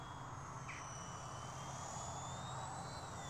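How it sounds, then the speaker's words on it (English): Small XK127 fixed-pitch RC helicopter flying fast in a speed test, giving a steady whining motor and rotor drone with a high tonal whine that holds at the same loudness throughout, without any talk. "perfect beginner RC helicopter. Fixed pitch."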